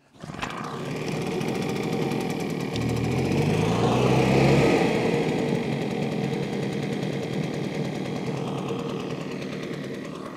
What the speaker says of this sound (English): Hopefully this starts, and we're just going to let it run for a little bit.